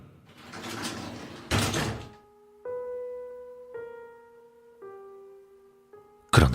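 A shop's sliding door at a small raw-fish restaurant is pushed open: a rough rolling rush followed by a series of drawn-out tonal squeals in steps, ending in a sudden loud clack.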